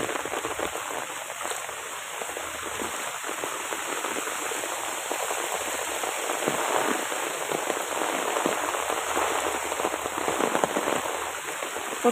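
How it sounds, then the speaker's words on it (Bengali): Heavy, steady rain pours down near a bamboo grove ringed by houses, a dense, continuous hiss of drops striking surfaces that holds at an even loudness for the whole stretch, with no voices. "প্রচুর বৃষ্টি হইতেছে, প্রচুর বৃষ্টি"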